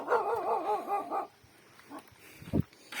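A dog barks and yips in a quick run of close, loud barks, then goes quiet before one short sharp bark near the end, heard outdoors at dusk.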